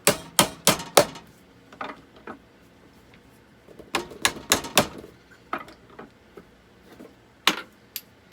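A nylon hammer shapes a bracelet made from two spoons, giving sharp, close tapping blows in quick bursts of three or four with short pauses between them.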